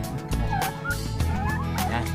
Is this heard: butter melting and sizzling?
no